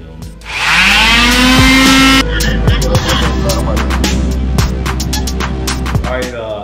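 A powerful electric sander works on a Sony MHC-EC77 speaker, with a loud rising whine in the first seconds, then a steady grinding drone with rattling and scraping throughout, close up.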